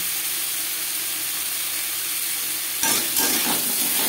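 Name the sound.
stirring potatoes with salt and turmeric in a pan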